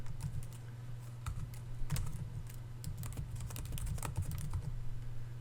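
Fingers typing on a computer keyboard, a continuous run of quick, irregular key clicks close up over a low steady hum, with no voices.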